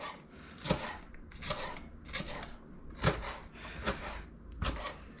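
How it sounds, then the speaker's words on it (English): A knife rapidly chopping onion finely on a board, bursts of quick crisp taps repeating about every second, close and clear without talk. "Chop this all down,"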